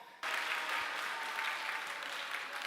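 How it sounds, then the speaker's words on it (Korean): Church audience breaking into applause: quiet at first, then a sudden burst of many hands clapping steadily and fairly loudly, holding even to the end, with no talk over it. "교회니까 박수도 쳐주죠"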